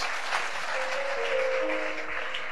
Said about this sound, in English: Can you clap for Jesus Christ?